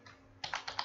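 Computer keyboard typing, a short burst of several quick keystrokes close by after a moment of near silence, with no one talking.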